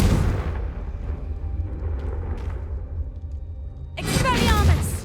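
Confringo blasting spell in Hogwarts Legacy, a deep rumbling explosion that swells, then a fresh bright crackling blast near the end, loud and close.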